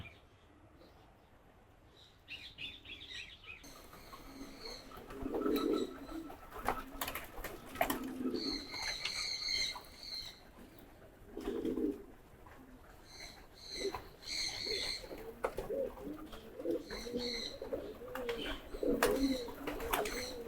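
Giribaz pigeons coo in low, soft bursts close by after landing, repeated every few seconds over faint background noise, with some light rustling and scratching between calls.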